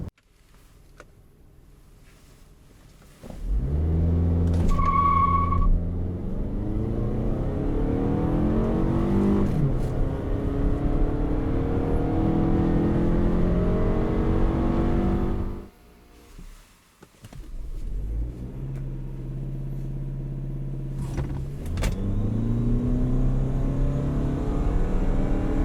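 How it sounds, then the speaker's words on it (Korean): A 2017 Toyota RAV4 and a RAV4 Hybrid accelerate hard from standstill in two runs, each a loud rising engine drone climbing through the gears with audible upshifts, separated by a short drop in level. "우선 두 모델 간의 가속 성능에 대해서도 한번 알아보실까요?"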